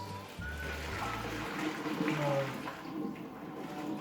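Liquid pours steadily into a pot during home pasta cooking, a soft continuous splashing trickle for several seconds with faint background noise.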